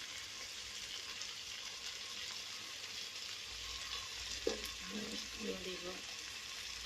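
Chicken pieces with calabash sauté in a pan, a steady close sizzle running throughout with a few scraping stir strokes near the end.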